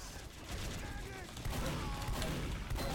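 Rapid automatic fire from a sentry gun in a video game, a steady dense rattle of shots running the whole time at moderate level, with no talking.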